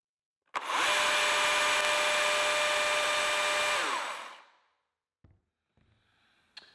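A Husqvarna 120i battery leaf blower whirs up abruptly and runs loud and steady for a few seconds, measuring about 117 decibels, then winds down, followed by faint clicks.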